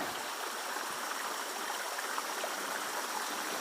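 Steady, continuous rush of stream water flowing beneath plants in an elephant forest, moderately close and even, with no voices or other sounds.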